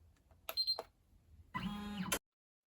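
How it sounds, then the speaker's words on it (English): An embroidery machine sewing the placement stitch for orange felt fabric on an in-the-hoop kitty hero mask: a short whirring buzz, a pause, then a steadier stitching run of about half a second, close and quiet. "the first thing it's going to do is create the placement stitch for our first fabric"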